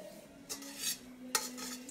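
A spoon stirs boiled kale into soup in a cooking pot, with a few soft scraping and clinking strokes against the pot over a faint steady hum.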